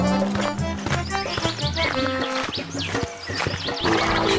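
Hooves clip-clop on a horse-drawn carriage in a cartoon story scene, with a horse neighing over a busy, loud music-like background that runs throughout.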